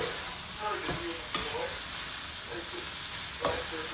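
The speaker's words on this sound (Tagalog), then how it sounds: "Mantika na gyud ang akong beef." Ground beef frying in oil gives a steady, close sizzle throughout, with a few scraping stirs of a utensil across the pan.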